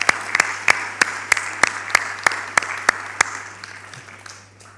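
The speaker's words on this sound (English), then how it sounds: "let's give our MITs a big round of applause for their efforts this semester" Audience at a winter 2016 hotel and tourism management graduation ceremony applauds the students, with loud, evenly spaced claps keeping a steady beat over a low hum before tapering off.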